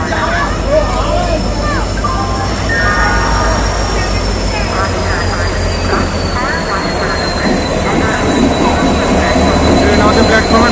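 Train pulling into a railway platform at Ahmedabad, a loud continuous rumble with rattling wagons and a high whine gliding downward, with people talking throughout amid busy station noise.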